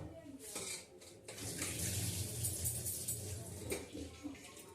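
Boiled chowmein noodles are tipped into a colander in a home kitchen, and water gushes and splashes steadily with a few clatters of metal and utensils, fairly close and moderately loud.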